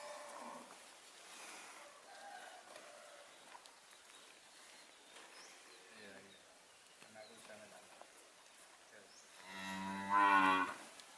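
A cow lets out a loud, drawn-out moo near the end, following a stretch of quieter background noise and faint murmuring, during a cattle ceremony in Blora, Indonesia.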